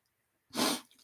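A single sharp sneeze bursts out close and loud after a brief silence, a broadband blast lasting about half a second before fading into a soft breathy tail.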